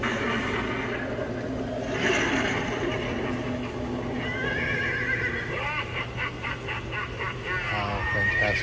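A giant 8-foot 5-inch animated LED Headless Horseman animatronic on a horse, sold by Home Depot, lets out a loud electronic neigh and whinny with clip-clop hoof effects, heard in a busy store with background chatter.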